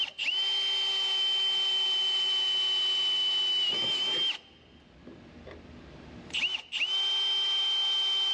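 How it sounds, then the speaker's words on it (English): A power drill bores pilot holes in a car's pinch weld, giving a loud steady whine that cuts out for a couple of seconds before revving up again. "Now that the bottom holes are drilled on the pinch weld"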